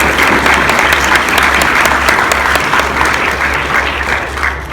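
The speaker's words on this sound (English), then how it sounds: "Round of applause," Loud, dense applause from the audience at a PAX East gaming panel, a continuous wash of clapping that holds steady and fades slightly toward the end.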